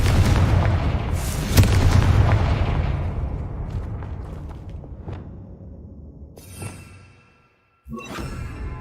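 A Confringo spell explodes in the video game Hogwarts Legacy, a heavy booming blast that rolls and fades over several seconds, followed by a couple of fainter pops, then a short silence before new game noise starts.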